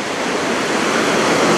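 A Norwegian waterfall heard from beneath a bridge gives a dense, steady roar of rushing, splashing water, loud and close with no voices.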